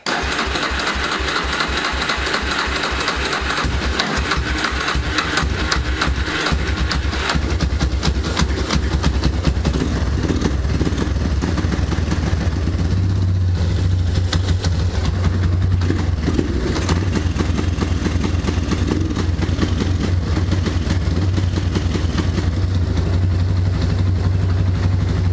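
A Yamaha Warrior 350 ATV engine cranks with rapid chugging pulses, then catches and settles into a steady, loud idle with a low throbbing rumble.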